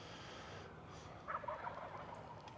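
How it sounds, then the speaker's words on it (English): Chickens kept across the way cluck faintly in the distance, a few soft calls rising briefly over a steady outdoor background hiss. "I hear some chickens down there."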